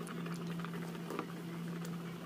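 Tomato, potato and carrot soup simmering in a pot: a steady low bubbling hiss with a constant hum underneath, soft and even with no voices.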